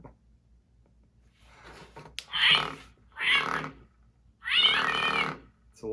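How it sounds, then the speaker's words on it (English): A vibrating National Lampoon's Christmas Vacation Hallmark ornament lets out three strained, unhappy cat-like yowls up close. Short quiet gaps with a faint hum separate the bursts. "Sounds like a pretty unhappy kitty cat."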